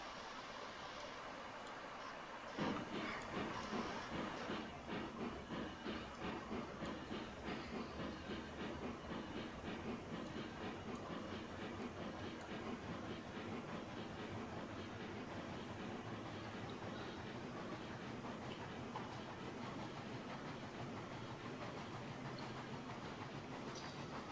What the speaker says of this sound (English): this locomotive, small as it is, would just be slipping and sliding trying to get this train moving, this log train here